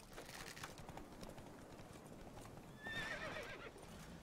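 Steady clip-clop of horse hooves plodding along in the video game The Witcher 3, with a brief whinny near the end; moderately loud, no talking.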